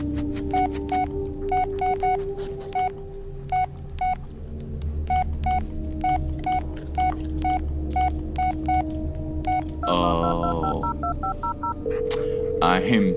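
In the Blair Witch video game, a phone keypad sends a rapid series of short, bright DTMF beeps over a low rumbling hum, followed by a burst of faster dial tones near the end. A person talks throughout.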